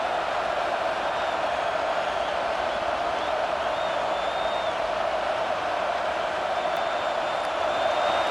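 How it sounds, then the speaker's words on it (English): Football stadium crowd at a Georgia vs USC game roaring for the defense on third down, a steady, dense, loud wall of cheering that holds without breaks. "Decibels rising as the crowd gets behind this defense on 3rd down."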